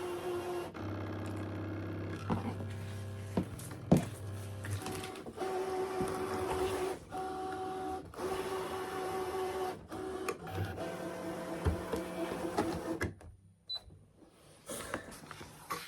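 A Brother ScanNCut cutting machine runs close by with steady motor whirring, stepping movements and pauses, shifting tones as the carriage moves, ending in a short quiet gap before resuming, with no talk.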